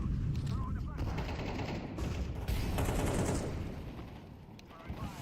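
Grenades and flashbangs go off in a first-person shooter amid heavy gunfire and explosions, a dense, loud barrage of game combat sounds with voices calling out underneath.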